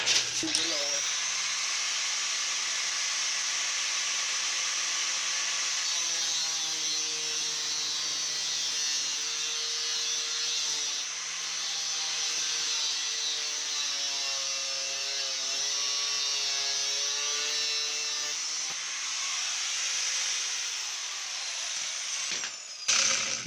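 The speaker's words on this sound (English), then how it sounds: "I'm going to cut 1/4 inch off the bottom of that with my grinder" An angle grinder cuts a quarter inch off the brake adjuster of a 2003 Buell XB9 Lightning motorcycle, giving a continuous, close, high-pitched grinding whine whose pitch wavers as the cut loads it, then stops near the end.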